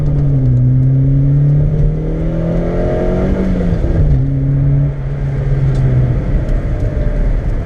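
A small Ford SportKa engine revs up through the gears, pitch rising and dropping with each shift, loud and close from inside the car.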